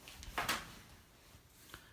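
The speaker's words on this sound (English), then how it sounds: "I'm going to close this door here because the cats are insane." An indoor door is pulled shut with a single soft wooden thud, a brief knock following moments later, fairly close and otherwise quiet.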